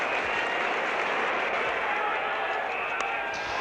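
A cricket crowd at the 1975 World Cup Final between Australia and West Indies applauds West Indies captain Clive Lloyd as he nears his century, a dense, steady roar of clapping and cheering that fills the whole moment.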